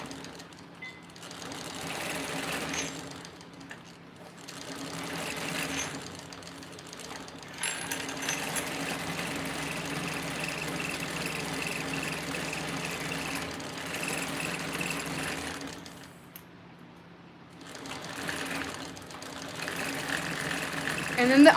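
A sewing machine with M-size bobbins winds a bobbin in a steady mechanical whir that runs for long stretches, broken by brief pauses, with the motor close and fairly loud.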